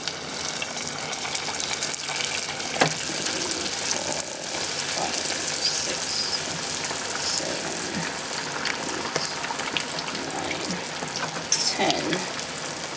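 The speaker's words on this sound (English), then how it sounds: "I'll fry this until it's light golden brown" Spring rolls, a batch of about ten, frying in hot oil with a steady close sizzle and bubbling, plus occasional stirring clinks and splashes throughout.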